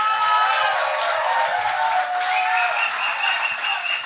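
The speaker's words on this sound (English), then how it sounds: "Big round of applause for Mike the Bud." A live podcast audience claps and cheers in a room, a continuous, fairly loud mass of applause with scattered whoops, steady for a few seconds with no talking over it.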